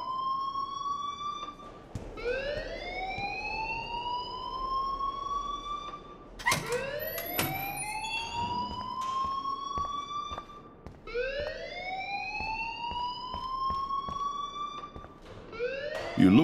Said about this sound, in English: please turn off that alarm